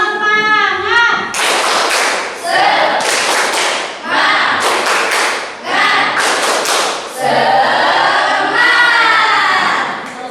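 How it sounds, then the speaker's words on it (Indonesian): Schoolchildren in a vocational high school classroom clap a rhythmic spirit-clap pattern in loud, repeated bursts of group claps with brief pauses between phrases, after a teacher's opening voice. "Tepuk semangat."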